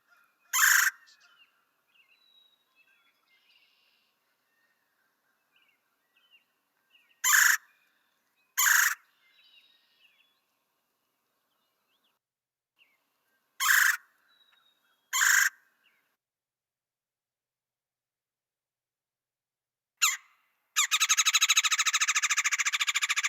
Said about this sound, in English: the red-bellied woodpecker